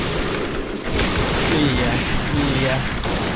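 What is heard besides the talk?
gunfire in the video game Point Blank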